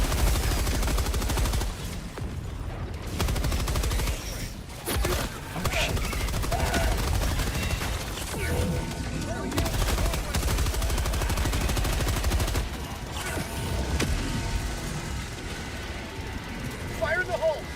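Rapid automatic gunfire from a sentry turret in a video game, loud and sustained in long bursts alongside other combat noise and explosions, with a voice calling out over it.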